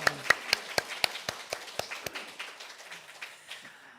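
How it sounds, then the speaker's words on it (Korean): Congregation at a Sunday afternoon church service claps in an even rhythmic beat, crisp, regular claps that then dissolve into softer, scattered clapping before fading. "박수 한번 크게 해주시길 바랍니다."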